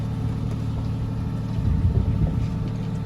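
A sailboat motors under engine on a calm night at sea, a steady low diesel drone with faint water wash and light wind, with no voices.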